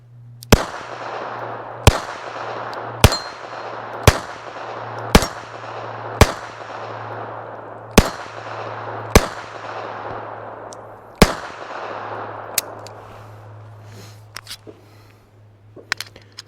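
Beretta 30X Tomcat pistol fired outdoors in a steady string of about nine sharp, loud shots roughly one second apart, each with a short ringing tail, followed by quieter clicks and handling.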